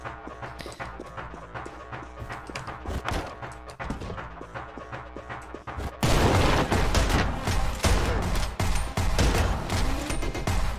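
Rapid bursts of shotgun fire in Anger Foot with heavy booms, growing louder and denser partway through over a busy game soundscape.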